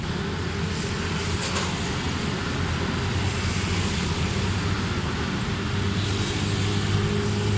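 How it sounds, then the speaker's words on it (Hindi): A Suzuki Cultus EFI engine with a tappet fault cranks and runs, giving a steady, loud mechanical drone with a dense broadband hum throughout and no talk. "इंजन घुमाओ जरा"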